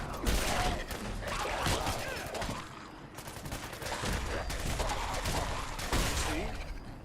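Rapid gunfire in Fallout 4's Far Harbor expansion: dense, overlapping volleys of shots that run almost continuously for about seven seconds, fairly loud, with a brief lull near the middle.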